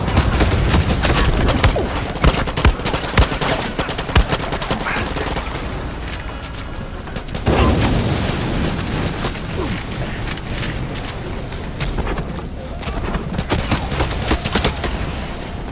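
A pistol fires in Far Cry 6's Vaas Insanity DLC, with loud, rapid shots repeating almost continuously among other game sounds and brief pauses between volleys.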